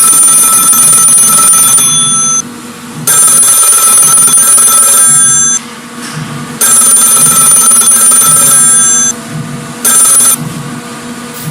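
A telephone bell rings loudly in repeated bursts of roughly two seconds each, with short pauses between them, in an indoor scene from a Hindi drama series set in Gorakhpur.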